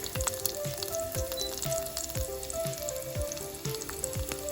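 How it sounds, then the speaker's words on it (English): Garlic sizzles as it fries in a pan for mung dal, a steady close crackle with a faint recurring thump of the pan running underneath, and no one talking. "Now I'm adding the garlic"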